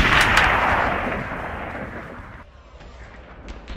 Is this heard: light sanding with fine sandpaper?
no